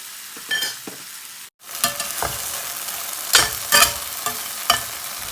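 Tomatoes and ketchup are stir-fried over high heat in a pan, a constant close sizzle broken by bursts of scraping and tossing, with a brief pause near the start and no talk.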